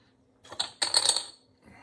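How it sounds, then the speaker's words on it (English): 3D printed game tokens clack together like poker chips, a quick cluster of bright plastic clicks close by, a short burst then a denser run of rattling taps before a single faint click. "It sounds almost exactly like poker chips."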